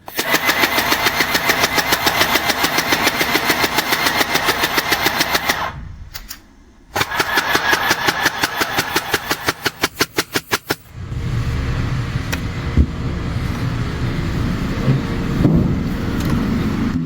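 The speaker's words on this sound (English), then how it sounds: "Now we're going to test the machine to make sure it sews perfectly." Mini portable sewing machine running and stitching, a loud steady mechanical rattle that stops briefly, restarts in short rapid bursts, then settles into a softer continuous whir, with no talking.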